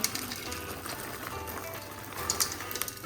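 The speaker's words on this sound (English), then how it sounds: "Frozen peas and carrots, we're just gonna throw those in." Frozen peas and carrots tossed into a hot pan, setting off a busy crackling sizzle with scattered pops and light clatter, moderately loud and continuous.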